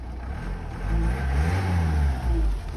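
A 2012 Nissan Qashqai+2 engine idles nearby with a low steady rumble that swells slightly a couple of times.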